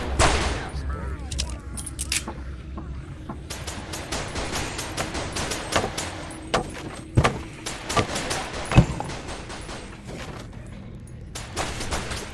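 Rapid rifle fire in a VR shooter game, with sharp gunshots in bursts and single cracks spread across the stretch, plus some clattering and brief speech in between.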